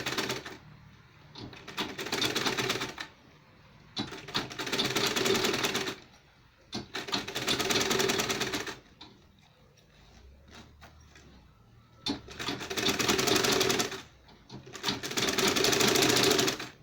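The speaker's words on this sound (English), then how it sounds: "So now the next thing is to sew from here." A sewing machine stitches a double pocket market purse in several steady whirring runs of about two seconds each, separated by brief pauses, close and clear with no talking.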